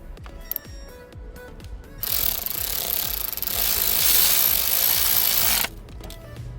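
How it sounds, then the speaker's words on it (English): Ratchet wrench tightening a bolt on a Mercedes engine during timing chain work, heard as a sustained, loud clicking and grinding stretch of mechanical noise after a quieter start. "Now we have to install the bolt."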